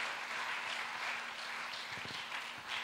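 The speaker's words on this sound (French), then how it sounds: "On peut acclamer pour la parole de Dieu." A church congregation applauds after a Bible reading, with steady sustained clapping from many hands and a few sharper, closer claps near the end over a low, faint hum.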